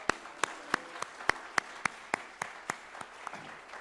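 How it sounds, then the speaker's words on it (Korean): A church congregation gives slow, evenly spaced claps at a steady rhythm, a dozen or so sharp beats over a faint room hush. "우리에게 새 은혜를 부어주신 하나님께 영광의 박수 올려드리겠습니다"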